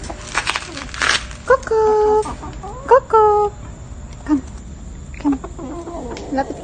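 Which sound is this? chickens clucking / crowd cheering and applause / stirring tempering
chickens clucking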